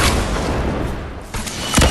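Dense gunfire and booms from a video game run continuously as a loud, steady barrage, swelling slightly near the end.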